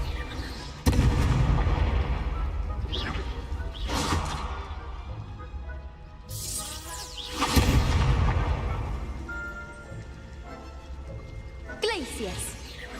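Repeated Confringo fire-spell blasts in the video game Hogwarts Legacy, several loud bursts spaced a few seconds apart, each with a booming impact and crackling tail, while a voice talks.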